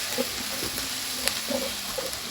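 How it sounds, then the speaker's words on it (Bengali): Onions frying in hot oil for a village-style Bengali fish curry, a steady close sizzle with light clinks and stirring taps scattered through it. "তেল গরম হয়ে গেছে, আমি এক এক করে মশলা দিয়ে দিই। দিয়ে দিলাম পেঁয়াজ।"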